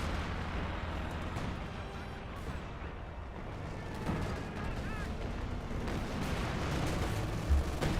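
Dense, continuous battle noise from the video game Company of Heroes 2, with rumbling blasts and gunfire as a satchel charge goes off in a crowded fight, layered under a caster's voice.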